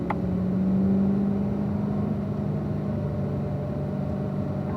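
A car on a racetrack rolls out under a steady, loud engine drone with a constant low hum, alone and close, with no distinct gear changes.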